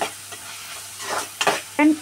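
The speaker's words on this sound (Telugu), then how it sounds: "టమాటీలు వేసాక అలా తిప్పుకోవాలా?" Tomatoes fry with curry leaves in a pan as they are stirred, giving a soft sizzle and a few short scrapes up close, ending in a brief sharper clatter.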